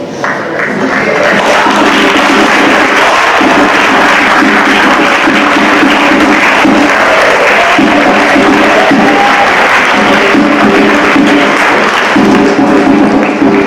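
Sustained audience applause following a speech at a Black History Month event, a steady dense wash of many hands clapping at full volume throughout, with a few thumps and crowd noise mixed in.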